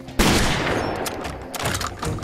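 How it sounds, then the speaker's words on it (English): A sawn-off shotgun fires in a Far Cry 2 game firefight with one loud, sharp blast followed by a ringing tail, then further cracks and rattles of gunfire, with almost no voice. "and this is a sawn-off shotgun"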